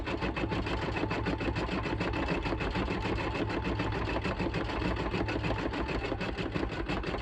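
An embroidery machine stitches a Halloween design, filling in a nose, with a fast, steady needle rattle that runs loud and unbroken from start to finish.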